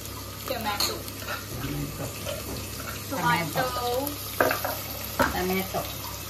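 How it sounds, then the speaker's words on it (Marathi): Chopped tomato frying in oil in a home kitchen for a mutton dish, a close, steady sizzle with stirring clatter and bursts of spattering, while a person speaks over it. "टोमॅटोला मग आपल्याला परत वितळेपर्यंत त्याला फ्राय करायचं आहे तेलामध्ये"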